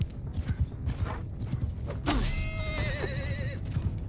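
Horses of horse archers gallop in a Mount & Blade Bannerlord battle, with a steady rumble of hooves and a clear whinny rising partway through, mixed with battle noise.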